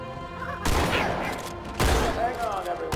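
Gunfire in the video game Halo 2, two loud sustained bursts of rapid weapon fire close up, each lasting about a second, with game sounds ringing between them.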